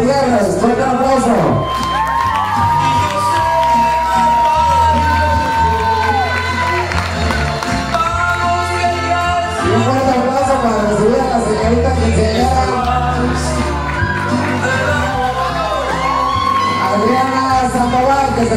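A crowd at a quinceañera claps, cheers and whoops, a loud, sustained wash of applause under music and an announcer's amplified voice.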